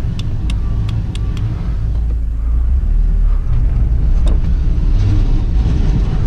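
UAZ Bukhanka 4x4 van engine running under load while winching off-road, a close, continuous low rumble with a few light clicks at the start and no speech.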